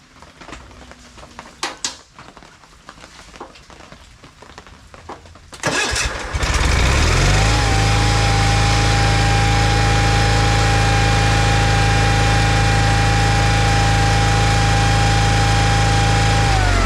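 A small engine is pull-started with the choke after some quiet handling noises, catches with a sudden roar, then settles into a loud, steady idle that runs to the end.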